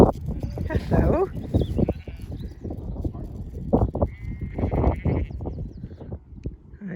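Sheep bleating on a rural dog-walking path in Derry, with several short bleats spread across the stretch amid footsteps and outdoor noise, fairly close.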